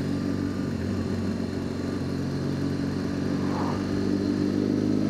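A motorcycle rides on steadily, its engine holding a continuous droning hum with a faint rattle, close and even throughout with no speech.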